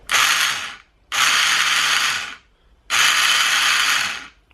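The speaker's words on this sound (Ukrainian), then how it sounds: "Отак воно там крутиться. Стартер крутиться, КТМчик мутиться." Starter on a KTM EXC 300 motorcycle spinning its exposed gears, a loud whirring, ratcheting mechanical run repeated three times in bursts of about a second or more, with short pauses between and no talk.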